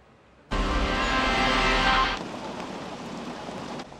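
A dense, steady roar of heavy rain starts abruptly and pours on loudly, easing slightly partway through.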